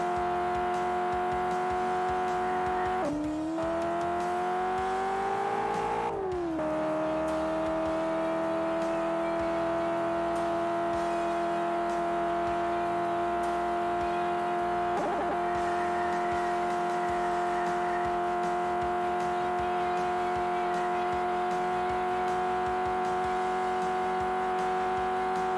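Arcade-style car from the drift racing game Drift Stage lapping a course, with a steady held engine tone that briefly dips and rises during two gear shifts, continuous and fairly loud with no speech.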